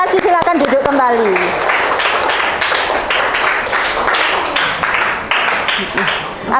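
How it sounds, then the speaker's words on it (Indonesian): A classroom crowd claps enthusiastically for a student group with rapid, dense applause that carries on steadily, with voices mixed in beneath it. "Sekali lagi tepuk tangan untuk kelompok 1"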